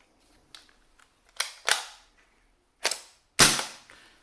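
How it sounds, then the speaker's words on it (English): PP2000 gas blowback airsoft SMG firing single shots with a suppressor, a series of sharp muffled cracks spaced unevenly, with smaller mechanical clicks between them, heard up close in a quiet room. "So gas mag with the suppressor on. Single shot."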